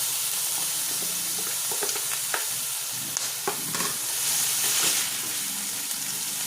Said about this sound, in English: tomato, yellow pepper, sweet pepper, onion, and garlic. Now I'm gonna add those.